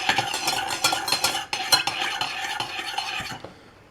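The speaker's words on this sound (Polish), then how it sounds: "pomieszam, żeby się rozpuściła ta sól" A small spoon stirs salt into water, clinking and scraping rapidly against the vessel in quick irregular bursts, close and alone, then stops at the end.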